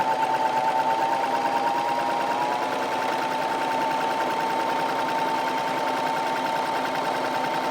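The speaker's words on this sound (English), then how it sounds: "I'm going to start by serge finishing just the upper edges of the pocket" A serger runs continuously, finishing the upper edges of a denim pocket with a steady, even mechanical whir and rapid stitching rattle, close by and with no pauses.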